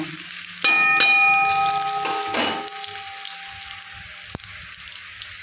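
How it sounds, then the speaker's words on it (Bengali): Dried red chillies and cumin seeds hit hot oil in a wok and crackle into a bright sizzle, with a couple of ringing metallic clinks near the start before the spluttering settles. "এবার এর মধ্যে একটু শুকনো লঙ্কা আর একটু জিরে ফোড়ন দিয়ে নেবো"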